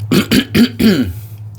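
Four quick, harsh coughs in a row, close and loud, followed by a fading rasp and quiet.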